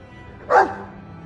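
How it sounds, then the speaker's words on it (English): A single short dog bark from the Dragon Age 2 video game, clear and fairly close, rising out of quiet ambient game background with no talk. "He's a sweet dog, Hawk."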